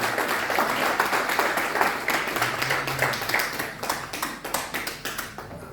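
A church congregation claps together, a dense round of applause with a steady rhythmic beat that grows more spaced toward the end.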